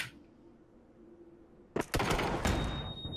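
Gunfire in the battle royale video game PUBG: after a quiet stretch, a sudden loud burst of rapid shots breaks out and continues as sustained close firing to the end.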